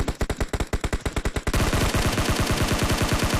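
Automatic gunfire in the mobile game PUBG Mobile rattles out loud and close, first as a rapid string of distinct shots and then as a denser, continuous burst.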